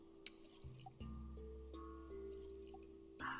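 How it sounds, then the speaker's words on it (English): Faint, sparse water drips from a water still generating water in Stranded Deep, a few soft, distinct plinks spaced apart over a quiet background hum. "sounds like the water is generating just fine"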